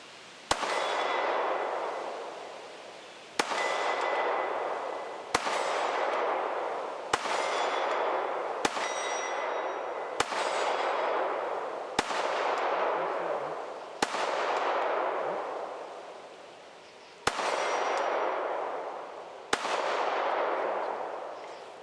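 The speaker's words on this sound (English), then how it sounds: "we're going to try a Glock slathered in canola oil and see how it does. And we got a target," Glock pistol fired at a 10-inch steel gong about 30-35 yards away, roughly ten sharp shots at uneven intervals, each followed by a bright ringing clang that decays before the next.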